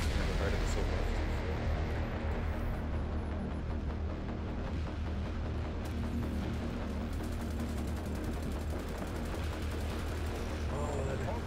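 Rapid bursts of assault rifle fire in The Division 2 Dark Zone PvP, dense, continuous and loud against a heavy game soundscape, with a player talking over it.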